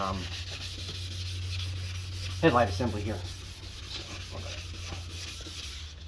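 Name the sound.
wet sanding a plastic headlight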